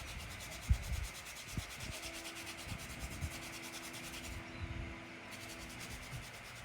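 Hand sanding of hypertufa jewelry boxes gives a soft, steady scratchy rubbing with faint irregular scuffs, quiet and close with no voices.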